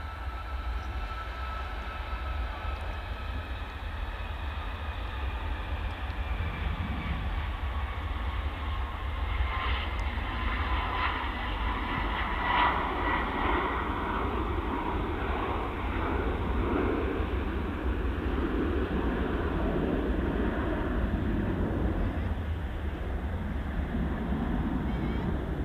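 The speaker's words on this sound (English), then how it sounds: "here's an aircraft. That's what we're here for. It's about to rotate off 2-3 right." A jet aircraft takes off from runway 23 right at Manchester Airport, a steady distant engine roar with a rising whine that holds for the whole stretch, heard from a spotting position near the runway.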